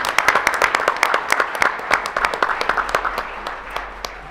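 Scattered, fairly close applause from a modest audience at a school district board of trustees meeting, with individual claps distinct and loud at first, then thinning and fading toward the end.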